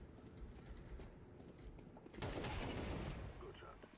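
An AK-47 fires in the game Counter-Strike 2: a faint, quiet passage ends in one short rapid burst of shots lasting about a second. A voice may be present.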